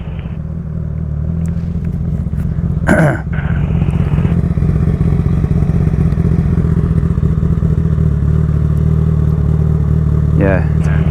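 A motorcycle engine drones loudly and continuously with a rising rev, mixed with clattering and thumps on a European road, two people talking over it.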